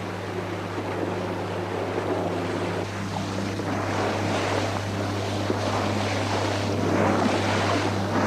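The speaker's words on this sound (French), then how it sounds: "Le moteur semble bien marcher." A boat motor drones steadily with a low constant hum, mixed with rushing water and wind noise throughout, on Loch Ness in thick mist.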